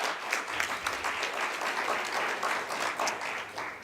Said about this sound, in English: Let's give him a big round of applause for his time here today.